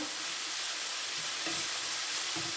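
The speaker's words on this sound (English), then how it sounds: "just fry your vegetables in a side" Vegetables and onion fry in a pan, a soft continuous sizzle with a few faint stirring scrapes, close and quiet, without talking.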